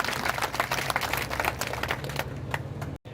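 An audience claps loudly for Usha Thakur on stage at a public event, a busy, crackling burst of many hands that fades toward the end and stops abruptly.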